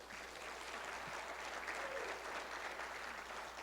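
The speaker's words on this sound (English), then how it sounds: "Give Jerry a round of applause." An audience at a Blue Springs State of the City event applauds council member Jerry Kaler, with steady, full clapping from a crowd in a hall that lasts throughout.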